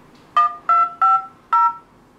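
Keypad dialing tones from the phone app of a JIAYU G2F smartphone: four short, clean electronic beeps in an uneven rhythm, close and clear against near silence.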